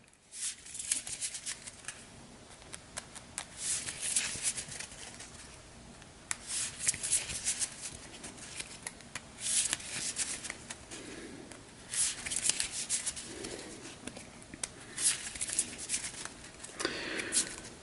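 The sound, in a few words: shuffling cards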